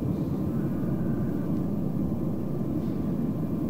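Steady, even roar of an aircraft engine at full throttle during takeoff in the game Arma 3, a low broadband drone holding constant with no talk over it.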